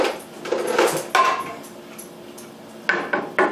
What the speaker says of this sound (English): Try to stir it up a little bit.